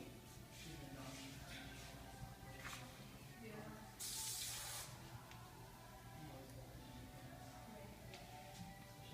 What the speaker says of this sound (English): We're going to give it a good spray on the root and work it in.